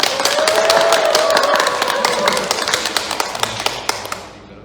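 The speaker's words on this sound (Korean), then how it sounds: "박수로 한번 하나 할까요?" Church congregation applauding at a Sunday worship service in Korea, a dense burst of clapping that starts loud and gradually thins into scattered claps before stopping, with a faint sustained voice or tone early on.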